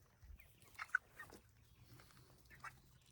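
Hens clucking inside a chicken tractor on a farm, a few soft, brief clucks spaced over a few seconds, faint and fairly close in a quiet outdoor setting.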